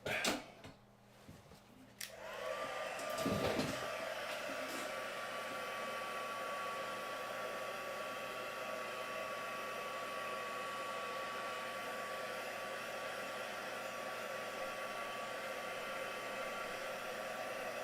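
A hair dryer switched on to dry a freshly painted rock, a steady, continuous whooshing hum running close and unbroken after a few handling noises at the start.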